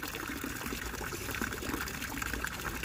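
Water flowing down an old, newly fixed waterfall into a backyard fish pond: a steady, close splashing gush that stays even throughout with no talking.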